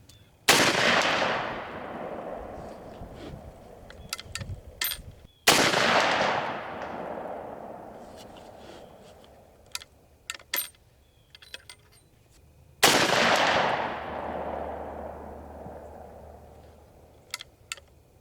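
Three loud rifle shots from a 45-70 Government firing 300-grain Sierra and 350-grain Hornady loads, each a sharp blast with a long decaying echo, spaced several seconds apart with small handling clicks between.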